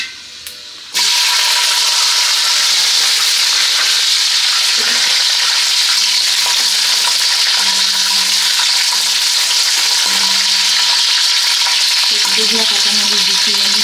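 Green chilies go into taro leaves already frying in hot oil, setting off a loud, dense, continuous sizzle with intermittent stirring scrapes, close and steady after a brief quieter start.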